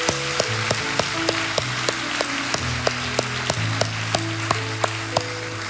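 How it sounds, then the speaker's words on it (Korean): A church congregation claps together during a Sunday worship service, a steady rhythmic clapping with evenly spaced sharp claps over sustained music tones, moderately loud. "서로에게 감사의 박수를, 하나님께 영광의 박수를 다시 한번 올리겠습니다"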